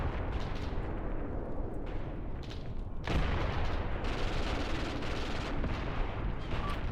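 Dense, continuous battlefield gunfire and artillery from the war strategy game Graviteam Tactics, with overlapping shots and booms rolling together, a heavier blast hitting midway through.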